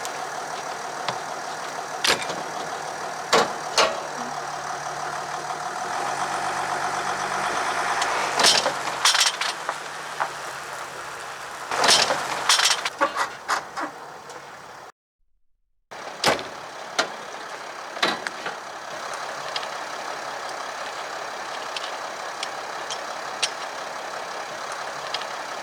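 A pickup truck pulls away with its camper stabilizers still lowered; the engine hums throughout, broken by sharp clunks, knocks and scraping bangs, with one brief dropout to silence.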